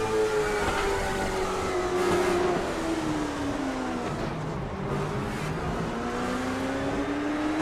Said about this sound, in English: Listening to the throttle on Radford's car